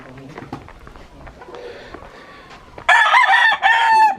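Roosters at a chicken ranch in the mountains of Bamban, Philippines, let out two loud, close crows in quick succession near the end, after softer clucking, background chatter and a faint voice.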